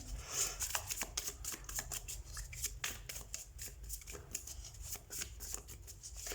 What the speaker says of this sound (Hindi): Let's see, let's shuffle your cards.